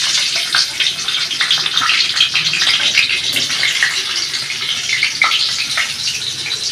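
Potatoes fry in hot oil over tempered spices for a mutton curry, a loud, continuous, close hiss with bright spitting crackles and no talk.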